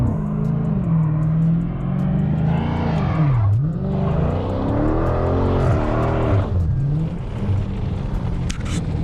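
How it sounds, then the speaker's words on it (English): A 2020 Dodge Scat Pack roars through a burnout on gravel, its engine revving up and dipping in long swells and then climbing again, loud and close from inside the car, with rocks rattling faintly near the end. "I'm gonna do a little burnout for y'all."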